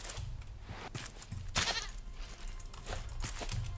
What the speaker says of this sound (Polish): Jezu, druga koza.